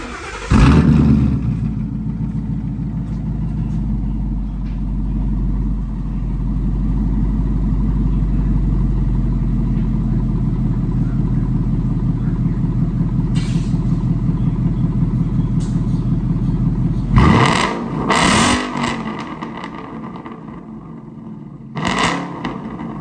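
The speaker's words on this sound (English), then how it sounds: "I'm gonna let y'all hear the exhaust on the before." A loud, deep exhaust from a Roush Mustang rumbles steadily while driving for most of the stretch, then sharp revs burst in near the end.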